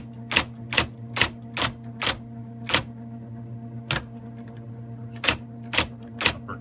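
A blue IBM Correcting Selectric II electric typewriter is typed on slowly, with sharp single keystrikes arriving in an uneven rhythm over a constant motor hum, close and clear.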